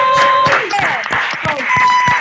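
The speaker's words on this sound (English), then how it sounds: "offer this director and company a real live round of applause" Scattered, uneven clapping from an online audience with open microphones, several separate claps and faint voices mixed together over about two seconds.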